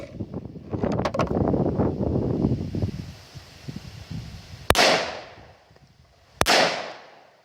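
A .460 Rowland pistol firing 200 grain slugs outdoors fires two sharp, loud shots about two seconds apart, each followed by a brief echo, after a stretch of wind noise.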